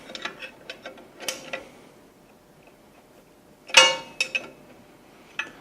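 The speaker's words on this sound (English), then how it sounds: "we take a wrench and we twist the adjusting screw until we stake the bushing" Wrench twisting the adjusting screw of a brake staking tool while staking a bushing on a Knorr-Bremse SB7 air disc brake, giving scattered metallic ratchet-like clicks and ticks in bursts, with a louder cluster near the middle and no talking.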